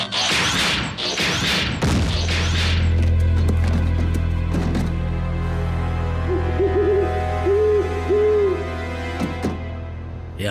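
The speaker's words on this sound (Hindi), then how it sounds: "या फिर एक उल्लू।" An owl hoots in a Hindi-dubbed Transformers Rescue Bots cartoon, a few soft warbling hoots after a burst of clattering action sounds, set against a steady low hum.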